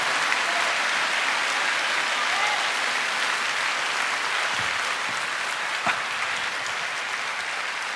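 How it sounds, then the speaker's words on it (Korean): Steady applause from a church congregation continues for several seconds, a dense, even wash of clapping at moderate volume with no talk. "지금 박수는 치지만"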